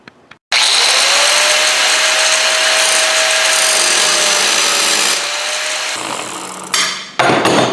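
Power tool cutting through a car's steering column to shorten it on a 1929 AV8 coupe build, a loud steady whine and grind lasting several seconds, then winding down and stopping.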